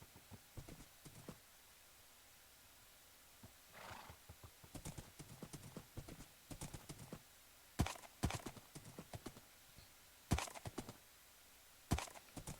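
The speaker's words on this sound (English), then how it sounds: "I'm on a horse." Minecraft horse hooves clip-clop at an uneven walking pace, with sharp louder strikes here and there and a brief whinny partway through, no voices.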